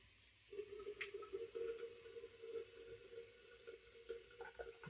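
Water running from a tap into a shaving soap bowl to bloom the soap, a steady close trickle and splash that continues for several seconds.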